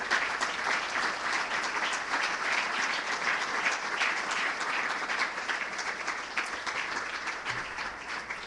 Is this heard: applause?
yes